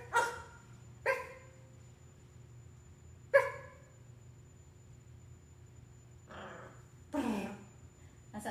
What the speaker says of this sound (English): Was that a bark?